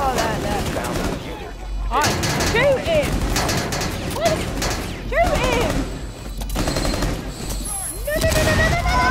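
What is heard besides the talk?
gunfire in Rainbow Six Siege video game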